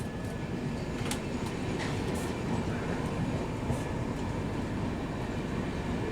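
The Lucknow Pune Express runs nonstop at speed, with a constant heavy rumble, rattling carriages and occasional faint squeals of wheels on rail.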